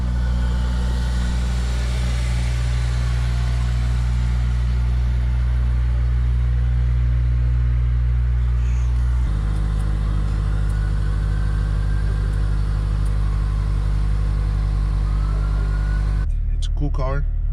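BMW 740i engine running loud and close, a deep steady rumble that shifts pitch partway through as it revs, then cuts off near the end as a person starts talking.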